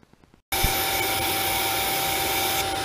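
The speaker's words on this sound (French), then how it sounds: "voilà ce que ça donne quand je passe l'aspirateur dans le puits" A vacuum cleaner switches on abruptly and runs with a loud, steady roar while sucking out the injector well of a PSA 1.6 HDI diesel engine, with no talking.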